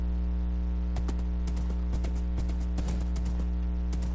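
Horse hooves clip-clop in Minecraft survival gameplay, a steady run of about a dozen crisp, evenly spaced taps over a constant low background hum, with no talking.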